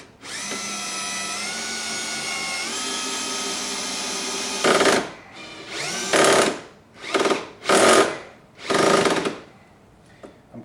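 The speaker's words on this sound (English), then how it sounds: "try to put as much body weight you have behind the drill" A power drill drives soft-headed screws during a door lock install, first a long steady whine, then four or five short loud bursts with brief pauses between them, close by with no talk.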